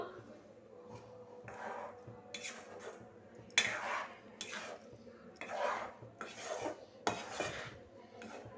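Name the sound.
stirring ground coconut paste in a pan on medium flame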